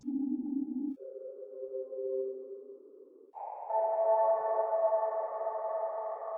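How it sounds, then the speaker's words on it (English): A subtle soundbed built from a noise recording and run through the Pigments resonator, half noisy and half tonal, moving through steady sustained tones that step upward in three blocks, with no talk. "I made a subtle soundbed from a noise recording. I used Pigment's resonator to make it half noisy,"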